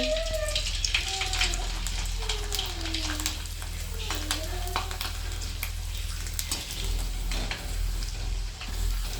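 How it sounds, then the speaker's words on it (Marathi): Fasting chakli made with sabudana deep-frying in hot oil, a loud continuous sizzle and bubbling up close, with a voice talking at times over it. "इकडं तेल तापलेलं आहे आणि मी तेलात चकली टाकून देते"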